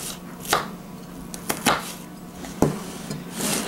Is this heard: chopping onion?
yes